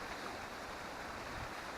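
A river flows past a wilderness camp in a hidden valley, giving a faint, steady broadband rush of water with no speech over it.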